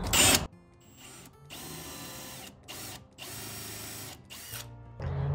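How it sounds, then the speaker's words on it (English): A power drill drives countersunk screws into a wooden stair tread in several short bursts of whirring, separated by brief pauses, with a louder burst at the start and a low thud at the end. "I'm gonna put a couple screws in here. I'm countersinking these because we're gonna just paint them."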